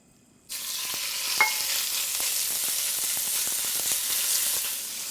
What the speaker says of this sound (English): I'm gonna add just a little bit of oil, not too much because I am cooking the pork belly first